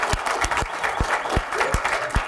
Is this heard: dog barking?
no